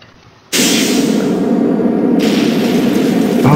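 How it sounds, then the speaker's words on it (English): An explosion in Kerbal Space Program bursts in suddenly as a loud, sustained roaring rumble that stays steady for several seconds without fading, with no voices over it. "there was an explosion"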